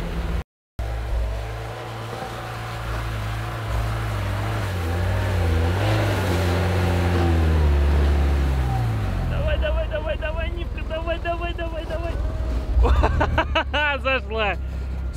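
A Lada Niva Travel engine revs and strains off-road, rising and falling as it accelerates, with someone talking steadily over the loud, close engine drone.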